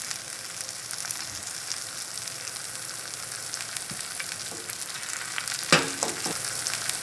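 Cabbage pancake frying in a generous amount of cooking oil gives a steady, bright sizzle throughout, with a few brief clinks and pops near the end and no voices.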